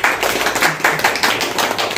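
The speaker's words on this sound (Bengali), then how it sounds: "আমরা সকলে করতালির মাধ্যমে উৎসাহ দিব।" An audience at a school Victory Day celebration applauds a prize winner with steady, fairly loud clapping that keeps an even, pulsing rhythm throughout.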